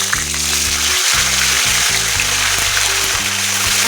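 Ginger paste frying and sizzling in a hot oiled pan with dried red chillies for a Bengali cabbage kofta curry, a steady loud crackle with low stirring scrapes running throughout, no talk.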